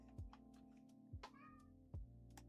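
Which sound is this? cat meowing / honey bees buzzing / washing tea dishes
cat meowing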